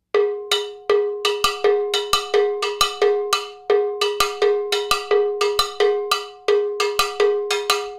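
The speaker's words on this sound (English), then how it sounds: "sometimes players will accent the second sound of each one of these doubles on the back of the bell" Cowbell played in a steady Latin pattern of doubles, the second stroke of each pair accented on the back of the bell; bright, close metallic strikes in a continuous rhythm with no talking.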